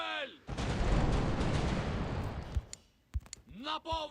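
Ship cannons booming in a loud sustained volley during a naval battle in the pirate game The Pirate: Caribbean Hunt, followed by a few separate sharp shots, with a speaking voice before and after.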